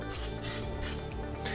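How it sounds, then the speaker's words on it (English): Cooking spray hisses onto a pan in a few short broadband bursts while gravy for biscuits is prepared, fairly loud and close, with a steady low hum underneath and no talking. "you're gonna wanna spray your pan"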